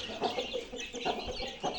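Native chicken chicks feeding on grain, giving a steady stream of soft cheeps and clucks close by, with faint pecking and rustling underneath and no talking.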